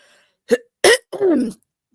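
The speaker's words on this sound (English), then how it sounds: "Let me clear my throat" A few short, rough bursts from a nearby voice, like someone clearing their throat, separated by brief pauses.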